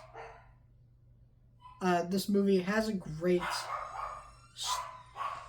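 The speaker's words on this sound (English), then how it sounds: "sorry about my dogs." Dogs in the house bark and yip in a short loud cluster, then once more a moment later, with someone talking alongside them.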